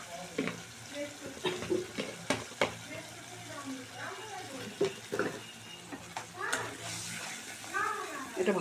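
Salt, turmeric and a little sugar fry with spices in a pan for a brinjal dish, giving a steady sizzle broken by repeated scraping stirs, with a voice talking over it throughout.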